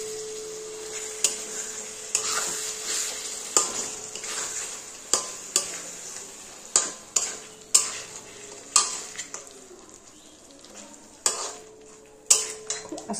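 Rui fish curry with spice paste is stirred in a pan, a steady frying sizzle broken by a dozen or so sharp spoon scrapes and knocks against the metal at uneven intervals, close and fairly loud.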